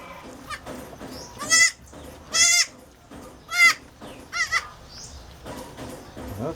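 A goat gives about five loud, nearby bleats, spaced a second or so apart, each a short wavering cry over a quiet background.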